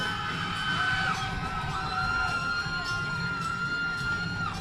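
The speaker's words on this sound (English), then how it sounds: "A warm round of applause and welcome them to the stage" Audience at a steel pan competition night cheering and applauding as a band is welcomed to the stage, a steady crowd roar with whoops heard from a distance beneath sustained ringing tones.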